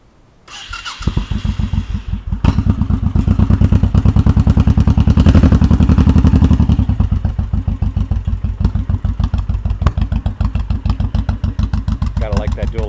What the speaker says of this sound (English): This is a carbureted bike. It's a little cold, I guess I better choke it.